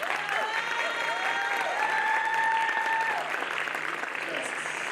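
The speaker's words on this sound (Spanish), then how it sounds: "para la cual pido un fuerte aplauso." Steady applause from the audience at an expert panel on artificial intelligence and adaptive learning, with a voice speaking over the continuous clapping throughout.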